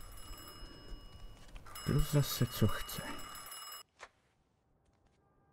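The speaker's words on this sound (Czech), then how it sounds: "a už nám zvoní telefon." A telephone rings in the Mafia II video game, a repeating bell under a Czech-speaking voice, then stopping abruptly and leaving near silence.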